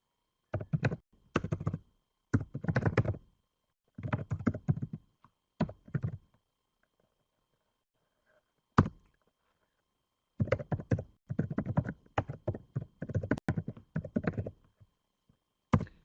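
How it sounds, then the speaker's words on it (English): Bursts of rapid clicking on a computer keyboard, close by, several typing runs separated by short pauses and one lone keystroke. "I might, for the sake of ease, just type it for you in the chat box"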